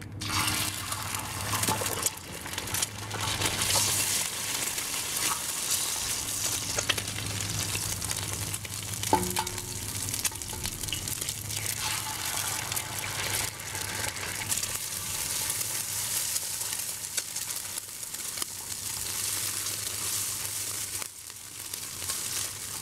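Two eggs dropped into a pan of hot oil, sizzling and crackling continuously up close, with occasional utensil clinks and a low hum in the background.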